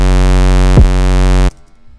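An 808 bass line plays as long sustained low tones under a loud synthetic texture, with a brief pitch-sliding hit near the middle, then stops abruptly about halfway through, leaving near silence.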